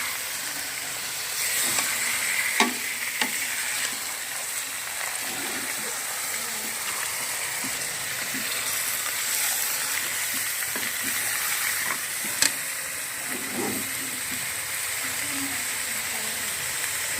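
Two kilograms of washed, dried chicken sizzles in a kadai with a steady, close hiss. A spoon scrapes and stirs it now and then, making scattered clinks over the frying.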